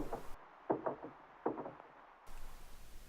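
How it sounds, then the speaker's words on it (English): Heavy knocks bang on a door in separate clusters of two or three blows over a muffled, low background, and a softer rustling shuffle follows at the end. "There's a few bangs on the door before we can hear footsteps walking away."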